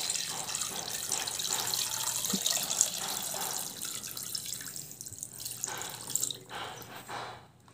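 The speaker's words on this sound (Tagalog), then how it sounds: "Lagyan natin ng tubig." Tap water runs into a cooking pot for yellow rice and chicken pastil, a steady splashing stream with drips, moderately quiet and thinning out toward the end.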